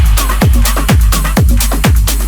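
Four-to-the-floor bass line for a big room tech house drop, processed with a drum bus, EQ and a glue compressor, with kick-driven pulses thumping evenly under dense full mix, loud and controlled.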